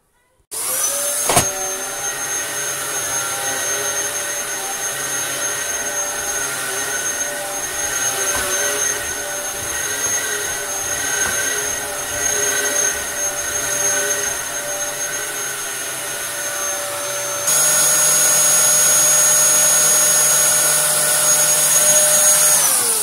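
A Dyson DC07 upright vacuum cleaner runs steadily on a dusty rug, its motor drone and high whine holding close and loud throughout, with the pitch shifting and the sound growing brighter near the end.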